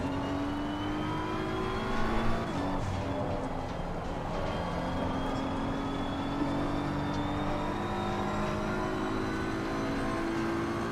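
Race car engines in Assetto Corsa Competizione at Circuit of the Americas, a steady sim-racing drone with rising and falling pitch as cars run close together, continuous and fairly loud with no talk.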